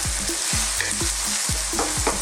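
Fresh green chillies and garlic ginger paste sizzle steadily in a hot pan for a curry, with a loud continuous crackle. Several quick stirring scrapes recur at a regular pace, and no one speaks.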